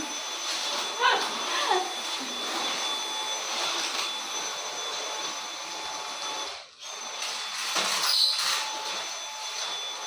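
A vacuum cleaner runs with a steady, loud whine and airy roar. It briefly cuts out once, then resumes, with faint scraping underneath.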